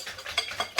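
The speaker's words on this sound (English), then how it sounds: "So we're going to give that a really good whisk there" A whisk beating matzo ball mixture in a bowl, a few quiet, quick scraping strokes about every two-tenths of a second, close and soft.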